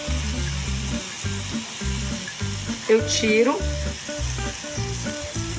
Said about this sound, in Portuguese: Quando você vê que a frigideira tá fritando e parou de ficar soltando muita água, quer dizer que já tá bom de colocar o polvo aqui.